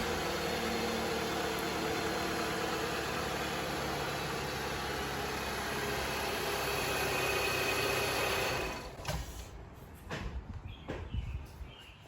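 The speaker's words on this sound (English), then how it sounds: "Now that we let the engine run" A Jeep Patriot engine idles after an oil change, a steady hum with broad noise lasting most of the stretch, then dropping away to quieter irregular bumps and handling sounds near the end.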